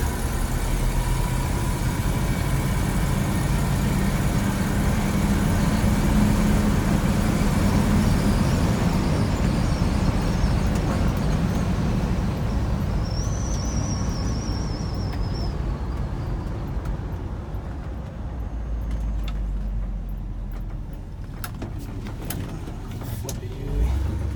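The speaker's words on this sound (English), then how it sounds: "accelerates really nice" A 1968 Ford F250 Camper Special pickup with a rebuilt original carburetor accelerates, its engine a steady, loud low rumble that holds for the whole stretch and eases slightly near the end.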